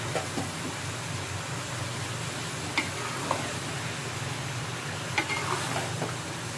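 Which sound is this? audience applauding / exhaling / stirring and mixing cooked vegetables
stirring and mixing cooked vegetables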